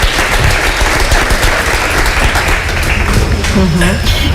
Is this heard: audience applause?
yes